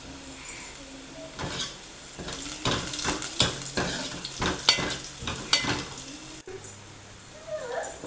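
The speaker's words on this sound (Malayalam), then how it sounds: "അതൊക്കെ വഴറ്റി വെച്ചിട്ട് ഒരു ഉള്ളിയാണ് എടുക്കുന്നത്. മണ്ണ് വഴറ്റിയെടുക്കുക." Onion sautéing and sizzling in a pan, with repeated scraping and stirring strokes throughout and a steady frying hiss underneath.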